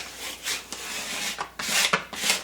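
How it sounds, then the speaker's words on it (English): A flat tool scraping vinyl decal and transfer tape onto a painted wall, with repeated close, loud rasping rubbing strokes in an uneven rhythm and no talking. "scrape it again"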